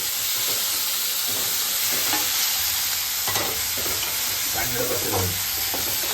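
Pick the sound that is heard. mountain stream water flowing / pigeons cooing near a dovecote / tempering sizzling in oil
tempering sizzling in oil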